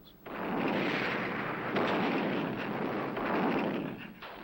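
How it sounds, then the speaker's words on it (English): German 88mm anti-aircraft cannon fire in a WWII Normandy battle roars as a dense, continuous rumbling barrage, loud and sustained for several seconds before cutting off. "they're shattered by the anti-aircraft batteries of the German 88mm cannons"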